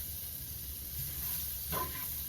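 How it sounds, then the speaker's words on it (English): Liver and onions sizzle steadily in a hot pan as flour is stirred in, with a brief scraping stir rising over the constant frying hiss and no talking. "Then you're gonna stir it on up in here like this."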